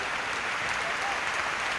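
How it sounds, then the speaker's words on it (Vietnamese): A church congregation applauds together during a worship service in Singapore, a dense, steady wash of clapping filling the short moment, fairly loud and close, with no clear voice on top. "Hãy vỗ tay cho Chúa Giêsu."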